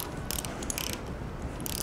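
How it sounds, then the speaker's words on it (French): Close metallic ratcheting clicks of a torque wrench snugging the bolts on rear axle caps, several short bursts of rapid clicks over a steady background hiss. "Je vais prendre mon clé dynamométrique,"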